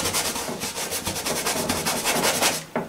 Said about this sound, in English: I love scrubbing this stuff in without worrying about the brush